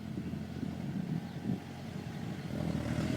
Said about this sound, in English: the farmer's taking our trailer out of the field